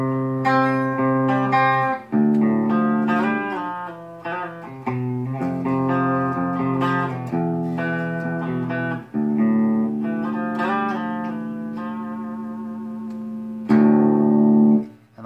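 Schecter C1 FR S electric guitar with an EMG 81 pickup through a clean amp channel, played as a continuous run of ringing notes and chords for about fifteen seconds, loud and close with no talking.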